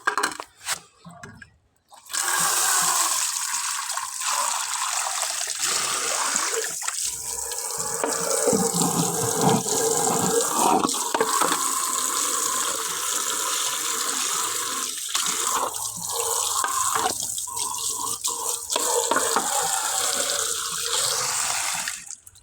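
Tap water runs steadily into a sink while something is washed for ducklings' water, a continuous splashing hiss that starts after a short pause and carries on alone.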